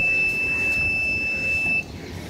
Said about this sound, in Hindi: अचानक अलार्म बजने लगा।